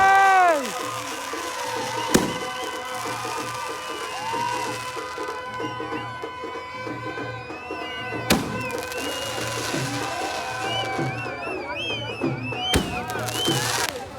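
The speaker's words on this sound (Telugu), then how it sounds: "ఫెస్టివల్ స్టార్ట్ అయ్యేటప్పుడు ఇట్లా క్రాకర్స్ అవన్నీ కాలుస్తారు." Firecrackers burst at a village festival, with a few sharp, loud bangs spaced several seconds apart over a steady bed of festive music and crowd noise.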